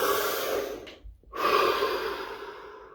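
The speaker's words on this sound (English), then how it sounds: "we're going to take a deep breath, release it" Deep breath drawn in and slowly released, loud and close, with a brief quiet pause between the inhale and the exhale.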